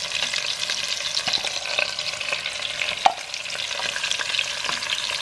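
Onions frying in a pan with cumin and ras el hanout for a Moroccan dish, a continuous close sizzle with scattered stirring scrapes and one sharp tap midway, no talking.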